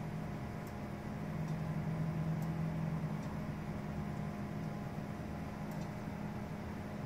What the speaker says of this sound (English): I'm hearing noise. I don't like it. But that's because it's doing a format.